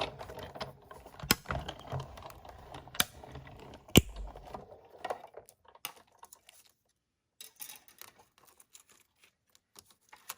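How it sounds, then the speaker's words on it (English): A die cutting machine runs toffee-coloured cardstock tags through in a few sharp mechanical clicks and clunks, then a quieter rolling, rattling passage with scattered ticks and gaps of near silence. "now we'll send the toffee through and die cut these four"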